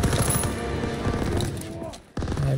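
An MG42 machine gun rattles in rapid bursts in Call of Duty WW2, loud and close with a dense chatter of shots, then a brief drop before the firing resumes.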